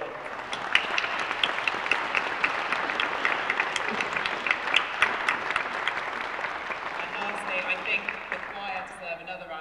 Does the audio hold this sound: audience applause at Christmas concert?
yes